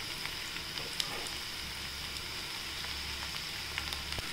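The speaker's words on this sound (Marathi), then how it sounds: "छान परतून घेऊया" Spring onion greens sautéing in a pan for a Marathi-style bhaji, a faint, even hiss of frying like light rain with occasional tiny crackles, steady throughout and without voices.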